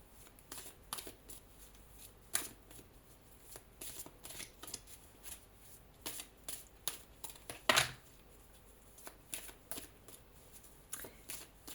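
An Oracle des Miroirs deck of oracle cards being shuffled, with quiet repeated riffles and card flicks sounding close and one sharper snap partway through.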